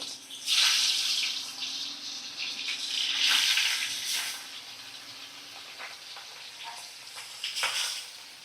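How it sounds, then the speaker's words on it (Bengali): Pieces of rohu and catla fish hit hot oil on a high gas flame and sizzle loudly and continuously, with crackling spurts rising and easing over several seconds. "আমি তেলের মধ্যে সব মাছ ছেড়ে দিচ্ছি"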